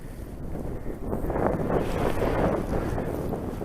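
Cold northerly wind blows steadily across an open hillside slope, a continuous rushing buffet on the microphone with gusts swelling after the first second and no voices.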